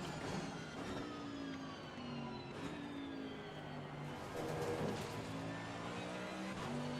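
Mercedes race car in the Assetto Corsa Competizione racing game, engine droning at moderate volume with rising and falling pitch through gear changes, steady and continuous, no talk over it.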